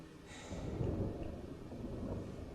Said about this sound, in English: I think it's thunder.